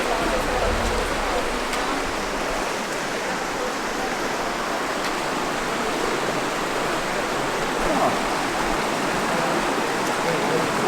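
A small waterfall in Zion National Park rushes with a continuous, dense, hissing roar, steady and close, with a voice faintly under it.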